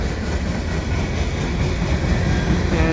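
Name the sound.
CN westbound freight train passing at Dorval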